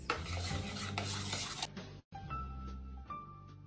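Cookie dough stirred by hand in a bowl, a continuous scraping and rubbing with utensil clinks against the dish, one brief dropout midway, then lighter stirring.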